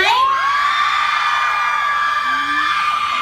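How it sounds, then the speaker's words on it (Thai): Concert crowd at an outdoor Isuzu dealership event in Nakhon Si Thammarat, Thailand, screaming and cheering continuously and loudly, with high shrill whoops sustained throughout the few seconds. "ขอเสียงกรี๊ดขอกำลังใจหน่อยได้ไหม"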